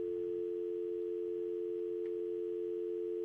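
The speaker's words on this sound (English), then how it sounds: "I had to get rid of the other dial tone." A steady telephone dial tone on a radio call-in line, one continuous unbroken hum, loud and alone throughout.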